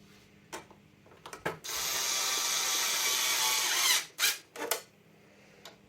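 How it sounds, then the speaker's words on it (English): A ratchet fitted with an extension drives two screws back into the 40-year-old plastic housing of an old display phone, giving a few short clicks and then a steady whirring burst of about two seconds, followed by a couple more brief turns, close and fairly quiet. "I'm just going to reattach these two screws. I went out to the toolbox and I got an extension."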